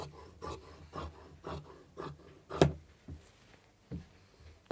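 Cloth being cut for a dhoti pyjama at a tailoring table, heard as a series of soft, separate rasping snips and rubs, some louder than others, close and quiet, with no voices.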